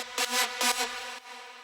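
A bright synth lead plays two short sustained notes, then a softer held tone that fades out, clear and up front.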